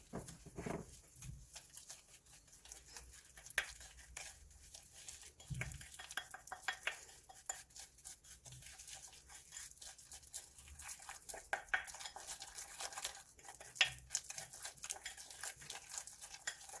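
Tteokbokki sauce ingredients being mixed in a pan, with quiet, irregular scraping and clinking of a utensil against the pan over a faint sizzle, heard close but soft throughout, with no talking.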